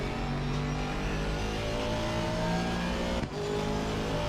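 A Volvo rally car in Assetto Corsa Rally revs hard and continuously, its engine note holding loud and close with rising and falling pitch, briefly cutting out near the end before resuming.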